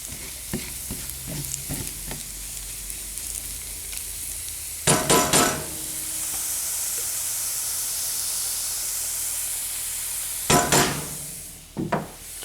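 Garlic sautéing in a pan sizzles and hisses steadily, with sharper bursts of stirring and spatula scrapes near the start, around five seconds and again near the end. No one speaks.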